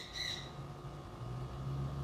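Pet bird named Basil gives a brief high squawk early on, fairly close, over a steady low indoor hum.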